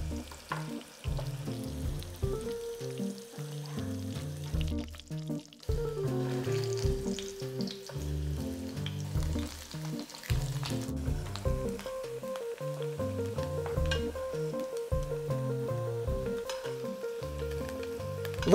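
Potatoes browning in a pan give off a steady sizzle, with occasional stirring and shifting, all under continuous background music.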